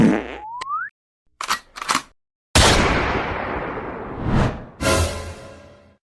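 A few sharp, loud bangs burst out after a springy twang, the last blasts trailing off in long echoing decay.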